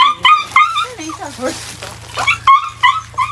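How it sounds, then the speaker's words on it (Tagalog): A large dog at a farm whimpering and giving short yips and barks, close and repeated, with a person talking alongside. "Hala, malaki na yung aso"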